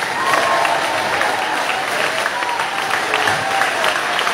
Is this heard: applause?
yes